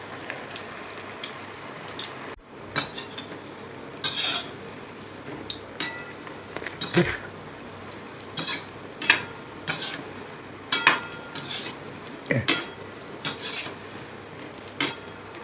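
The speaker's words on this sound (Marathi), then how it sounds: "आता कोफ्ते फ्राय करून घेऊया. तेल छान तापलेलं आहे." Koftas for veg Maratha curry frying in hot oil in a kadhai, with a soft continuous sizzle and repeated close metallic clinks and scrapes from a spoon against the pan.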